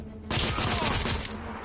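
Dense gunfire bursts out after a brief quiet start, a sustained loud fusillade of overlapping shots in a Victorian-era third-person shooter firefight in The Order: 1886.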